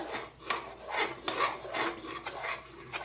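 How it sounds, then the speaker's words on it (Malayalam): A utensil scrapes and rubs around a pan of thickening vanilla pudding in repeated strokes, a steady stirring rhythm with soft clinks, close by and without talk. "ഇനി 1 മിനിറ്റ് കൂടെ ഇതുപോലെ സ്റ്റെയർ ചെയ്ത് കൊണ്ടിരിക്കാം."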